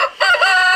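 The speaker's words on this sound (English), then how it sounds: "They're really good roosters" A rooster crows in a coop at close range: one short, loud, harmonic call lasting under a second, with a brief dip before it rises and holds.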